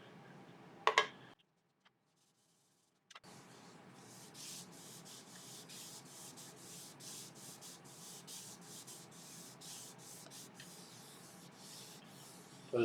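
Finish is rubbed by hand onto an Irish walnut platter of egg cups sanded to 400 grit, a soft, rhythmic cloth-on-wood rubbing that runs steadily after a brief knock, a short clatter and a pause of near silence.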